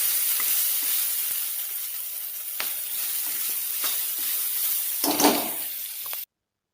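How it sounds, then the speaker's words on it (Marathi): Guar bean pods fry in hot oil with masala, giving a steady, close sizzle with faint stirring taps. A louder scrape and crackle rises near the end, then the sound cuts off abruptly. "याच्यात गवारीच्या शेंगा तेलामध्ये परतून घेतल्या."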